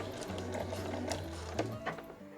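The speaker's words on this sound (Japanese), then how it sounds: "そしたら先ほどお話ししたようにこの押さえの端と布端が合うようにゆっくり縫っていきます。" Sewing machine running steadily at close range, stitching slowly around a small round patchwork coaster made from fabric scraps, with a continuous whirring hum and faint mechanical ticking throughout.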